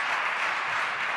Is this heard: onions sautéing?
no